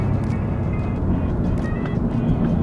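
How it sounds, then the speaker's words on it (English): A 2025 Alfa Romeo Giulia Quadrifoglio engine drones steadily from inside the car on a winding Australian road, a continuous loud low rumble with road noise and no pauses. "And that engine just sounds so good."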